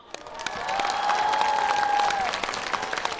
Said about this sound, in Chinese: 今天有喜欢旅游的朋友们鼓掌可以吗？